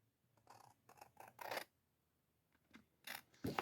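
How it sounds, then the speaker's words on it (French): Scissors cutting the four corners of a cardboard box, several separate crisp snips and crunches in short groups with quiet gaps between them, close and alone. "on va découper. Donc, on découpe nos 4 coins."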